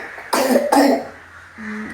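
Two close, sharp coughs from a mildly feverish young girl, each a quick burst, followed by a soft vocal sound, with no talking.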